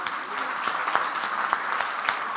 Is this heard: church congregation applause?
yes